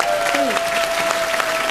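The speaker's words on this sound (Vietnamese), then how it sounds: "chúng ta dành một tràng vỗ tay để chúc mừng Ngọc Phụng" Audience at a televised singing competition breaking into steady applause, a dense wash of clapping under a host's voice speaking over it.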